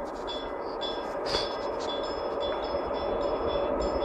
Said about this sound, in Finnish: tulee juna